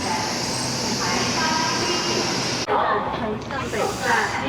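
Loud, steady rumble and hiss inside a passenger train in China with wood-panelled interior, broken by a sudden clunk, with people talking over the noise.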